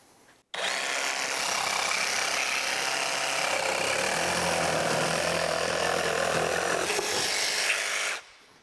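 A Ridgid 18V brushless barrel-grip jigsaw in automatic mode saws steadily through a workpiece for about seven and a half seconds, its loud, continuous buzzing whine rising slightly in pitch as it bites, then cutting off abruptly.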